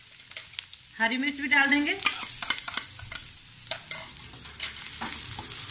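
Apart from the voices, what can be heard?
onion, ginger and garlic frying and stirred in a pan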